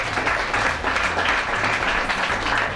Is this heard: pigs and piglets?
no